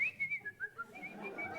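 A person whistles a short, wavering tune of rising and falling notes, imitating someone whistling; the whistle is close and clear, with no talk over it.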